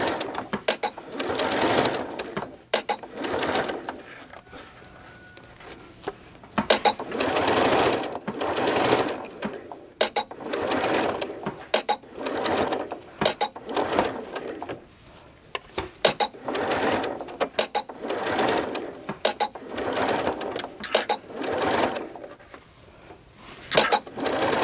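Sewing machine stitching around the curved edges of a cotton towel topper, with the needle pausing for pivots; close, loud bursts of rapid stitching come in repeated runs of a few seconds, separated by short quiet pauses.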